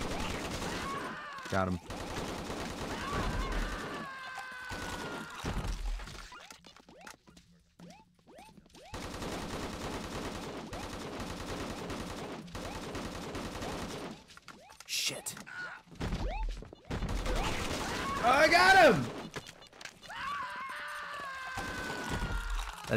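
Gunfire from a sniper rifle in Swamp, an audio-only zombie first-person shooter made for blind players, sounds in loud sharp bursts. Game sounds fill the background and a player speaks briefly between the shots.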